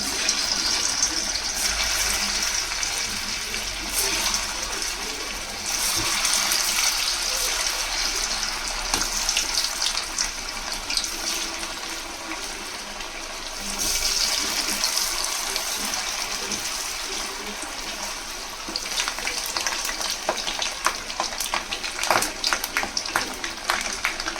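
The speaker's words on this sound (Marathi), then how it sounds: "आता याच्यामध्ये आपण वड्या तळून घेऊया." Coriander vadi rolls frying in hot oil, a steady broadband sizzle and crackle that persists throughout at moderate level, with no talk.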